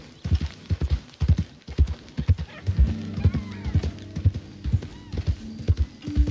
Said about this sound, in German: Hier lang zu reiten ist halt echt auch geil.